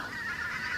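A goose honks in the sky, a faint, continuous nasal call rising and falling over a short moment, heard alone without talk.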